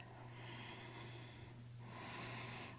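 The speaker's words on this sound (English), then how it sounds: "Breathing deep" Deep breaths are drawn and released slowly during a beginner yoga pose, a long airy inhale followed by a brighter exhale, close to the mic over a steady low hum.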